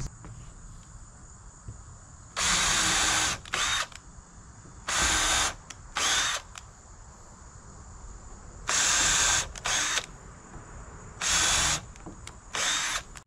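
A cordless drill drives screws into deck boards outdoors in several loud whirring bursts of one to two seconds each, separated by pauses, over a steady insect-like background hum.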